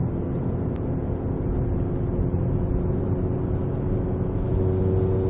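Inside a car fitted with a Baun Performance exhaust, the engine holds a steady 2500 RPM, giving a constant low hum and smooth exhaust tone with a mild whir and no change in pitch.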